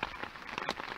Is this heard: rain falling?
yes